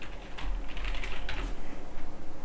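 Quick, light clicks of fingers typing on a computer keyboard, a short, irregular burst of keystrokes close to the microphone, with no voice over it.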